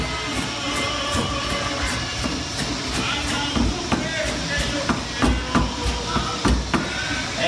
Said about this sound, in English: start chopping.